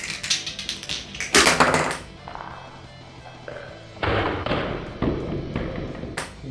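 Bottleman Colamaru Energy DX and Aquasports DX toy bottle-cap shooters fire caps at distant targets and knock them down, giving a run of sharp taps, thuds and clattering knocks in several bursts.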